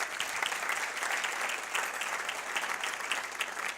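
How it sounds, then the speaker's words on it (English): An audience at a United Way campaign kickoff event claps steadily, a dense, even patter of applause heard at moderate distance. "Give yourselves a big round of applause for being here today."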